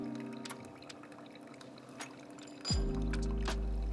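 Water poured from a kettle over ground coffee in a pour-over brewer makes a soft trickle, then swells into a steadier, fuller pouring stream. No one speaks.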